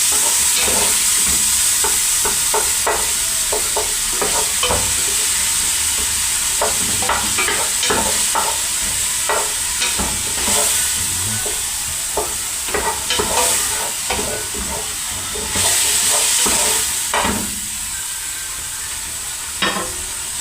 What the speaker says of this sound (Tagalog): Talagang lulutuin po kasi natin mabuti yung kamatis